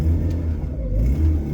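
A Peugeot 205 fitted with a swapped 160 hp 405 Mi16 engine gives a loud, close, deep rumble that rises and settles briefly, with no talking.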